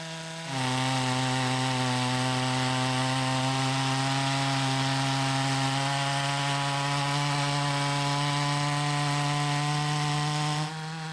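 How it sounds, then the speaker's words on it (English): A chainsaw runs steadily at high revs for about ten seconds, a loud sustained engine whine milling a walnut log into slabs, starting and stopping abruptly. "Chainsaw milling is always easier with 2 people"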